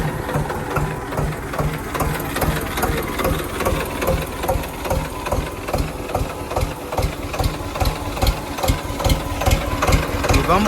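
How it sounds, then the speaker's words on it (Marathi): A diesel tractor, started after sitting unused for many days, idles nearby with a loud, steady chugging and rhythmic knocking beats. No one talks over it. "चला, आपल्या ट्रॅक्टरला लय दिवस झाले चालू नाही करे"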